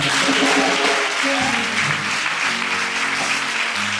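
A congregation at a church gathering applauds to acclaim the Lord, a dense, loud, continuous wash of clapping that fills the whole stretch, with faint voices mixed in.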